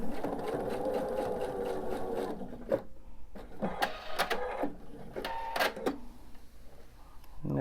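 A sewing machine stitches a quilt top, running in a steady buzzing whir for a couple of seconds, then starting and stopping in short slow bursts nearby, with no speech over it.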